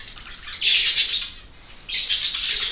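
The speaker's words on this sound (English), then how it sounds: "Sorry for the birds." Background birds chirp and squawk in two dense bursts of bright calls separated by a quieter stretch, with no voices.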